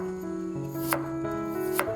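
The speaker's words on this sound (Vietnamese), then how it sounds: "Sả chỉ cần đập dập để tinh dầu tiết ra khi hấp." Lemongrass stalks bashed to bruise them for steaming shrimp, two sharp solid thuds about a second apart, close and loud over a steady background hum.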